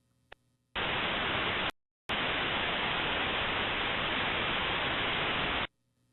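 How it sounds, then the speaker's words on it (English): Gaussian white noise played through lecture-hall speakers: a loud, flat hiss starting abruptly, broken by a brief silent gap, then running steadily for several seconds before stopping cleanly. "So here's the original Gaussian noise."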